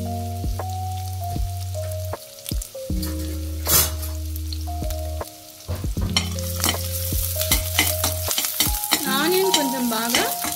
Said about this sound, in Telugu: ఇప్పుడు దీంట్లో ఫస్ట్ నెయ్యి హీట్ అయిన తర్వాత ఆనియన్స్ వేసుకోవాలి.